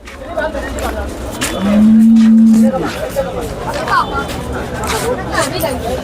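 At a busy cow market in Khulna, a single cow lets out one sustained moo lasting about a second, rising above steady crowd chatter and nearby voices.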